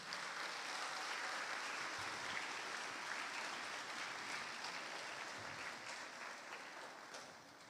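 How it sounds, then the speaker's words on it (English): Sustained applause from a crowd at a primary school graduation ceremony, steady and dense throughout, gradually thinning slightly toward the end. "we want to give all the graduates another round of applause"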